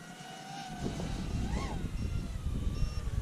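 An FMS 1300mm PA-18 Super Cub RC model airplane flies overhead on a breezy day, its small motor a thin steady whine that rises and shifts in pitch over heavy rumbling wind noise outdoors.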